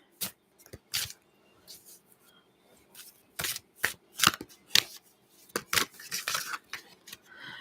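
Irregular bursts of papery riffling and soft slaps as oracle cards are shuffled close by, with short pauses between flurries.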